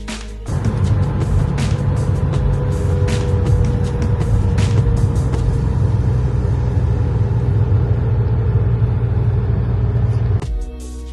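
A 1978 Nissan 280Z Black Pearl Edition's engine starts up and holds a loud, steady rumble, then cuts off abruptly near the end.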